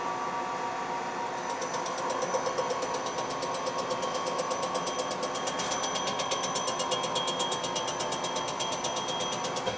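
A milling cutter surfaces the deck of a numbers-matching engine block on a machine with a DRO, giving a steady, dense mechanical whir with rapid regular ticking that stays close and continuous throughout.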